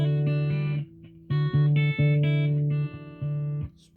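Guitar riff, a short picked figure with hammer-ons and ringing notes over a low sustained string, played slowly and clearly up close with small gaps between phrases.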